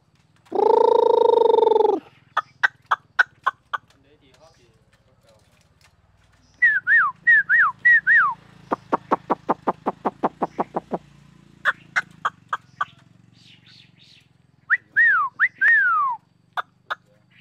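A Chinese hwamei songbird sings during a bird test in a village house, loud and close: a burst of harsh noise, then sharp repeated whistles, a rapid trill and looping slurred phrases separated by short pauses.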